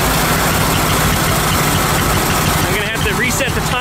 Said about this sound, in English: as you can tell from the way the engine sounds